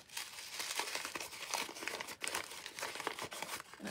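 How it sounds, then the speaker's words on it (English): Close, continuous crinkling of stiff paper being scrunched and handled, with crisp rustles and brief tearing-like bursts, no voices. "Excuse the crinkling."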